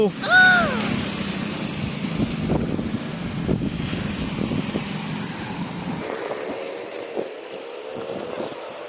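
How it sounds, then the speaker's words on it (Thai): Wind gusting and buffeting against a microphone outdoors near a cafe and construction site, a steady rumbling roar for most of the clip that eases off near the end, with faint voices in the background. "ไอ้เหี้ยลมอย่าปิว"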